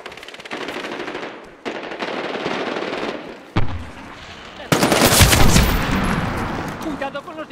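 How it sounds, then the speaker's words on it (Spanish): Sustained machine gun fire from the military shooter game Medal of Honor Warfighter, loud and close, with bursts separated by short gaps and a heavier, denser barrage of fire near the end. "¡Cuidado con los disparos!"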